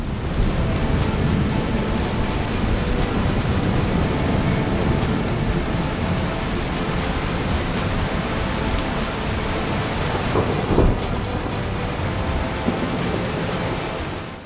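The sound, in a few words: heavy rain in Pune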